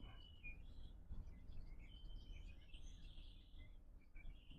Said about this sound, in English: Oh, the birds just sound so awesome today, guys.